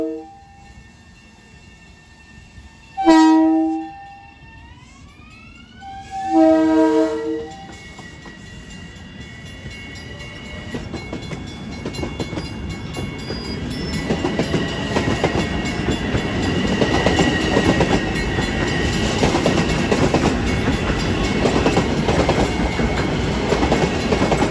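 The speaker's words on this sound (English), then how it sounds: "this is train 2350 from New York to Farmingdale making his New Hyde Park stop" Evening commuter train 2350 from New York to Farmingdale, pulling into New Hyde Park station by the New Hyde Park Road crossing, sounds two loud horn blasts, then a rumbling, clattering roll that grows steadily louder as it nears.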